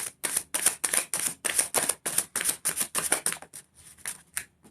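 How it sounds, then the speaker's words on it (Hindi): Tarot cards being shuffled in quick, crisp riffling bursts, a steady rhythm of about a dozen close, bright flutters with brief gaps, alone without talk. "ये शफल कर लेते हैं"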